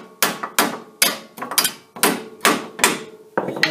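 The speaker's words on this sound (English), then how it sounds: "to kind of pound the hub out a little bit" Hammer blows on a socket placed over a bolt to tap out a Jeep Wrangler YJ wheel hub, about nine sharp metallic strikes in an irregular rhythm, close and loud.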